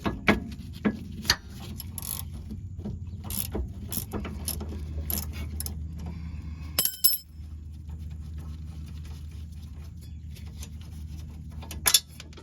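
A ratchet works a 15mm nut loose on the sway bar link of a Honda Pilot with aftermarket parts: a steady run of quick clicks over a low hum, with a few sharper clacks along the way.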